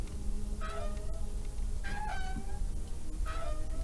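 A cat in the Deponia Doomsday game gives three separate, moderately loud meows, one after another, over a steady background bed with no talking.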